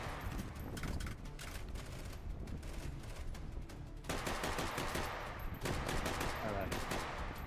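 Rapid bursts of gunfire from an H3VR match, sustained automatic fire rattling nearly continuously with dense overlapping shots that grow louder and heavier in the second half.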